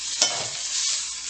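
Plant-based meat sizzles in hot oil in a pan, a close, steady hiss with a brief stirring scrape, no voices.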